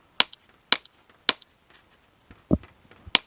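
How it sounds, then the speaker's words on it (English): A hammer strikes a masonry chisel to score a line across a half brick, four sharp ringing metallic blows at a steady rhythm with one duller knock between them, close and distinct. "I'm using a masonry chisel and a hammer, and I'm going to put a line in the brick where I want it to be cut"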